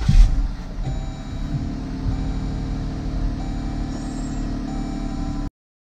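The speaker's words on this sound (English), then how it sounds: "Now listen to the new battery as it cranks the engine." A Jeep Grand Cherokee engine cranks on a new battery and runs with a steady mid-pitched rumble and hum, continuing evenly for several seconds before cutting off.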